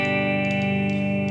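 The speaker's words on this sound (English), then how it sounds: "So I'll just let you hear some clean tones." A Gibson Les Paul Custom electric guitar plays a clean tone on the rhythm pickup with tone and volume controls up full, a sustained, rich chord ringing out steadily and close with no talking.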